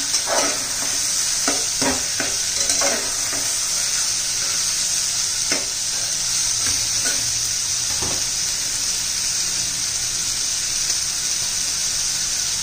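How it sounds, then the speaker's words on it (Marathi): Tomato sautéing with pavta beans and onion in a pan, a constant sizzle broken by repeated scraping stirs and clicks of a spoon, close and fairly loud with no talking. "आता त्यात टोमॅटो घालून घ्यायचा, टोमॅटोही परतून घेऊ आता छान असं"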